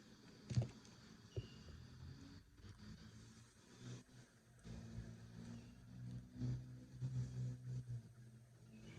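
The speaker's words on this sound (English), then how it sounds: "Excuse the sound of cars driving by there and some trucks." Traffic from outside: cars and some trucks pass by near a construction area, a faint, steady rumble with soft swells as vehicles go past, distant and low in level.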